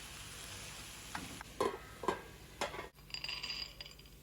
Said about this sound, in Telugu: ఇలా ఫ్రై అయ్యే వరకు మధ్య మధ్యలో కలుపుతూ ఉండాలి.